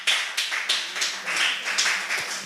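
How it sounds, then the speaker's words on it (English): Applause from an audience at a spelling bee competition. The claps are scattered and irregular and stay moderately loud throughout, with no talking. "A round of applause for her too."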